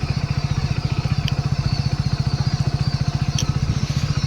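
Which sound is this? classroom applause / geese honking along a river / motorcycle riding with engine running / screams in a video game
motorcycle riding with engine running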